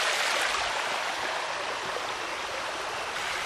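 Mountain stream water flowing steadily on a trail up Mount Natas Angin, a continuous close, full-bodied rushing wash with no breaks and no voices.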